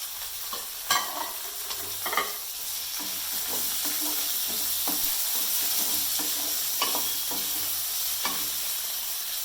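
Three cut tomatoes frying in a pan for hotel-style tomato chutney, a steady sizzle broken by several sharp stirring scrapes and clatters, close and continuous with no talk.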